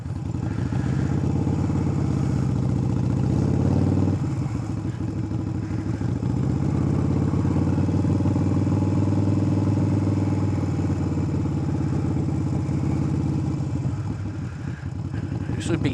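A motorcycle rolls at slow speed in first gear in a parking lot, a steady, close, low engine drone with slight rises and dips in revs throughout.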